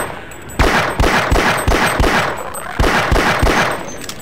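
Pistol fire at headcrabs in the Half-Life game, loud single shots landing about every half second in two bursts separated by a short pause, each crack followed by a brief ringing tail.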